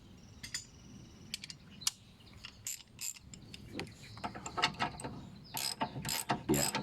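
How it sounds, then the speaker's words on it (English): A ratchet works a bolt on a front wishbone of a Land Rover Freelander 1, with irregular bursts of sharp, close clicking that grow busier toward the end. "So maybe I'll use the ratchet soon."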